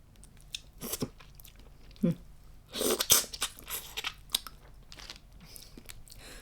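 Pickled Spanish red shrimp marinated in fish sauce are eaten with crunchy bites and wet chewing, producing a string of close, irregular crunches with a loud cluster in the middle, with a voice talking at times.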